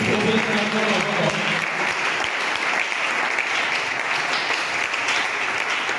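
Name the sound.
church congregation applauding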